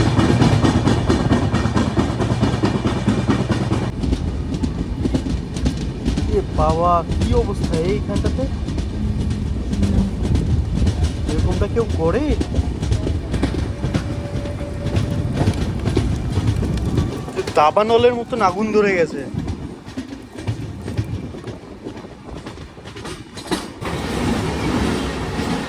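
The Tamralipta Express runs on rails toward Mecheda, a loud continuous rumble with rhythmic wheel clatter and occasional squeals, while someone speaks over the noise.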